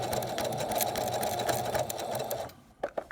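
Close-up whirr of a sewing machine running continuously as it stitches quilt binding through three layers of fabric, steady and loud for over two seconds before stopping with a few small clicks.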